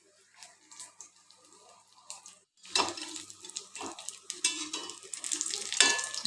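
Onion bajji fries in hot coconut oil, starting quiet with faint clinks, then breaking into a brisk, crackling sizzle that keeps building, close by with no voices.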